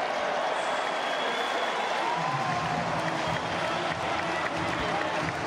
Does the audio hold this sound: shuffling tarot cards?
no